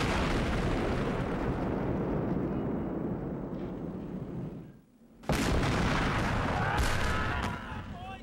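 Heavy Civil War cannon fire from dozens of artillery batteries at Gettysburg rumbles and booms in a dense, continuous roar, dropping briefly to near silence before another loud blast and more thundering.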